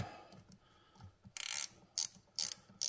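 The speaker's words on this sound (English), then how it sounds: "I'm just going to get a 10 millimeter wrench and tighten these up" A 10 mm ratcheting wrench tightens the tuner nuts on a partscaster electric guitar headstock, giving four short, loud bursts of rapid ratchet clicking with brief pauses between them.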